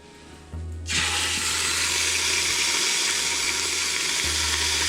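A venison roast drops into a hot pot and starts searing with a sudden loud sizzle, then keeps frying steadily and close with no talking.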